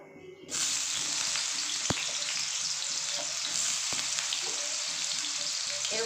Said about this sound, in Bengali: তেল গরম হয়ে গেছে আগে আলুগুলো ভেজে নেবো